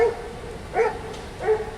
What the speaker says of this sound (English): that dog is always barking.